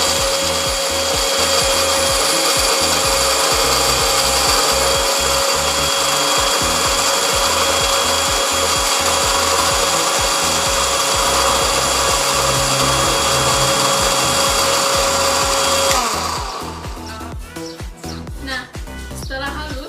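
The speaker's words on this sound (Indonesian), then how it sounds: "Tutup blendernya dan blender hingga halus." A loud blender grinds basil leaves with water, running continuously with a steady high whine and grinding roar, then cuts off, leaving quieter clattering at the end.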